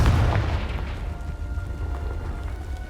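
A Confringo spell explosion in the video game Hogwarts Legacy lands as one loud, deep boom at the start, then fades into a lingering low rumble.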